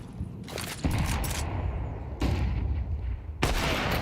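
Rifles trade fire in a short Counter-Strike duel, with three sharp gunshot bursts spaced about a second apart over a steady background hum.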